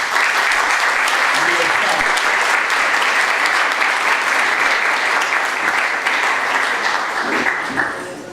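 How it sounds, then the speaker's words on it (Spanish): An audience claps loudly and continuously at a Latin American labour conference, the dense applause holding steady for several seconds and tapering at the end. "Entonces, para la mujer, un gran aplauso de libertad"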